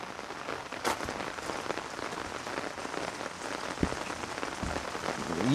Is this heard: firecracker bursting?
no